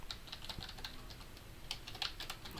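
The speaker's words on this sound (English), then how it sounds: "I'm typing slow." Steady, light clicking of keys on a computer keyboard, typed at a slow, uneven pace with soft individual taps close by and no voices.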